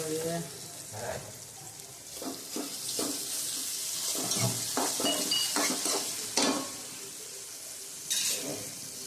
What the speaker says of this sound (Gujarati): આપણે ટમેટા તળવા દઈએ જરીક વાર ઢાંકીને